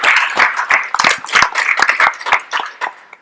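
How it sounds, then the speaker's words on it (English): Audience applause at a general session on criminalization and policing, a dense burst of many hands clapping for about three seconds, loud and close with no talk over it. "Yes, clap it up to that."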